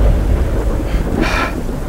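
Rumbling thunder in the mansion map of the Slender horror game, a low continuous roll with a brighter crack swelling briefly near the end, no voices over it.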